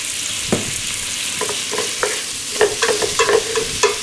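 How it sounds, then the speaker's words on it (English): Sausages, onions, garlic and bay leaves frying in a pot, a steady soft sizzle with occasional scraping clicks from stirring, close and with no voices. "our sausages and onions and garlic and stuff bay leaves have been cooking for a couple of minutes"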